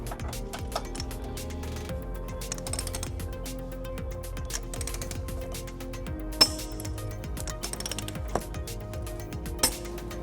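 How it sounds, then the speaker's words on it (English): Socket wrench tightening the mounting bolts of a trailer hitch on a 2013 Volvo XC90 using 15mm and 19mm sockets, giving soft metallic clinks and ratcheting clicks with a few sharper knocks over a steady low background. "Now we're ready to torque our bolts to manufacturer specification."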